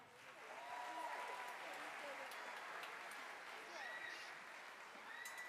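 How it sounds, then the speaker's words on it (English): An audience in a school auditorium claps in sustained, moderately distant applause lasting several seconds, with a few scattered tones and voices mixed into the crowd noise. "let's give them all a round of applause"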